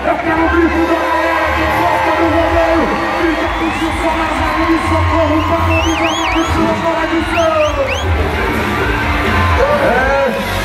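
A rodeo arena crowd at a bull-riding event in Cajamar cheers, whoops and shouts continuously and loudly, with a voice over the PA and whistles rising above the steady roar.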